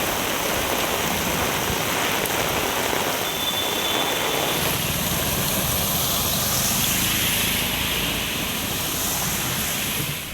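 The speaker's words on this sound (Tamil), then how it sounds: "சிவகங்கை மாவட்டத்தில் காரைக்குடி சுற்றுவட்டார பகுதிகளில் பெய்த மழையால் சாலைகளில் வெள்ள நீர் தேங்கியது." Heavy rain pouring in Karaikudi, Sivaganga district, with water flooding the roads, a dense, steady hiss that continues without a break.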